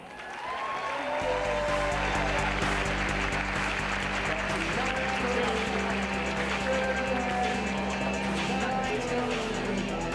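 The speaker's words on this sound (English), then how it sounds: "It's okay to keep clapping." Audience at the 2018 Houston Sports Awards applauds loudly and continuously over walk-on music, a dense crowd of clapping that swells and holds for the whole stretch.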